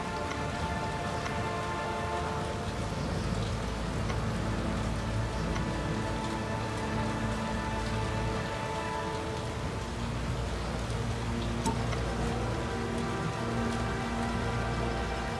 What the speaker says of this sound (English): As loud as the rain is, it cannot compete with the crashing noise behind you.